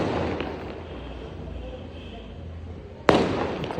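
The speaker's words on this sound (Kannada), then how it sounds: "ಪಟಾಕಿ ಸ್ಟಾರ್ಟ್ ಆಯಿತು." One sharp firecracker bang cracks out near the end against a steady outdoor rumble, leaving a brief noisy tail behind it.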